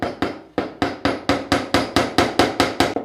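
Steady hammer blows drive nails into a sheet to pin it down before cutting iron with a Makita marble saw, about a dozen sharp, loud, evenly spaced strikes close by with no talking.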